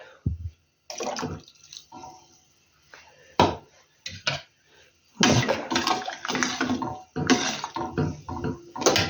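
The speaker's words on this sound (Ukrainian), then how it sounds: "Вода закипіла, виключаю і буду додавати сюди оцет тепер." Vinegar is poured into just-boiled marinade water for pickled zucchini in splashing bursts, separated by brief pauses and handling clatter, nearby and fairly loud.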